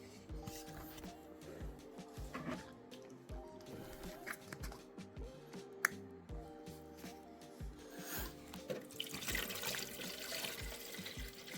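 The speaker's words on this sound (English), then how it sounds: "let's get our reservoir filled up with water." Water runs and splashes into an indoor garden's reservoir, with rubbing and handling noises throughout; no one speaks.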